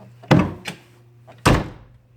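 A newly installed car rear door on a home-built frame-up car closing twice, each a solid, nearby thunk with a short rattle, plus a lighter knock between the closes.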